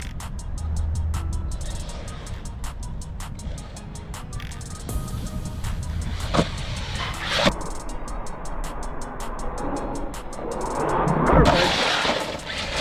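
Arrma Kraton 4S RC car tearing across soft grass and dirt, its motor whine rising and falling with sharp clatters and thumps from bumps and crashes, fairly loud and close throughout with steady outdoor rumble and occasional voices.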